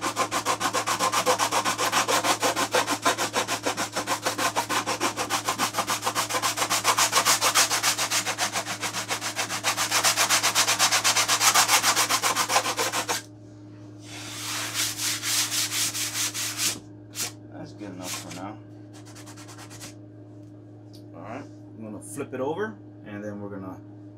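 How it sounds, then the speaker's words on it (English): Sanding a CA-glued joint on a balsa model airplane wing, a steady close scratchy rubbing for about thirteen seconds, then shorter strokes with pauses over a constant low hum. "what I'm gonna do here is just gonna sand a little bit of this joint there"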